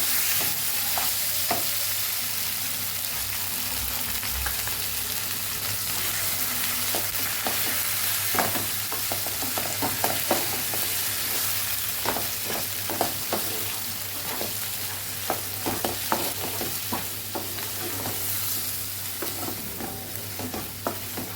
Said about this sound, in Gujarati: વઘાર સાથે ખીચડીને સરસ મિક્સ કરીને હવે આપણે એને દહીં ઉમેરી દેવાનું છે